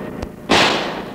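A gunshot in a 1975 film: a single sharp crack rings out after a faint earlier snap and then decays briefly.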